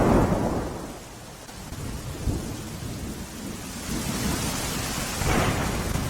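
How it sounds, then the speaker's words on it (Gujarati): Very heavy rain pours down in Rajkot, a dense, steady roar with thunder rumbling through it, loud and close throughout with no voices. "રાજકોટમાં વહેલી સવારથી જ અતિ ભારે વરસાદ વરસી રહ્યો છે"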